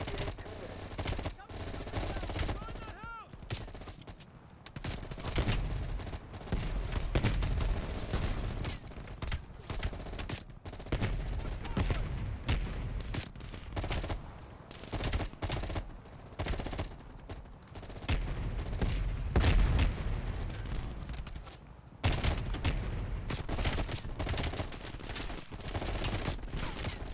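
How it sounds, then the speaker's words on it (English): Sustained bursts of rapid M16 gunfire in the video game Call of Duty: Black Ops Cold War crackle almost continuously, loud and dense, with occasional brief pauses between volleys. "you followed the road right toward the sound of gunfire"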